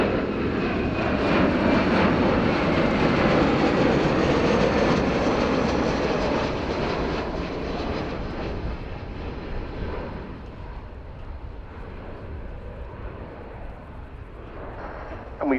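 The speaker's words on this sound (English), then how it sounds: "running in from the right, the Boeing Poseidon MRA-1 from number 120 Squadron at RAF Wedgetail." Boeing Poseidon MRA1 maritime patrol jet making a flypast at RIAT 2025, with its weapons bay open, a loud broad jet roar that swells early and then slowly fades as it passes, with a commentator talking over it.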